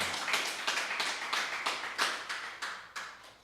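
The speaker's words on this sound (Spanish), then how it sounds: "démosle un aplauso al Dios vivo" Church congregation clapping together in a slow, regular rhythm, each beat a crisp burst of many hands, fairly close and steady.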